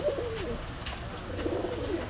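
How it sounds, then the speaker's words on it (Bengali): Pigeons at a pigeon shop in Gallamari, Khulna give soft throaty coos, with one short burst at the start and another near the end, over quiet background noise with no talking. "এখানে কিছু কবুতর আছে, পায়রা আছে, গিরিবাজ আছে, সব ধরনের কবুতর এখানে আছে"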